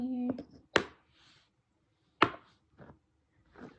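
Two sharp clicks of magnetic chess pieces snapping onto a board, spaced apart, with quieter taps and a brief voice at the start.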